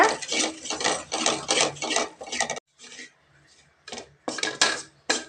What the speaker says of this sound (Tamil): இப்போ இதை நல்லா வறுத்து எடுத்துக்கலாங்க